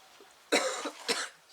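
Someone potting begonia cuttings in a very dry perlite soil mix coughs twice, two short harsh bursts close to the mic in a quiet room.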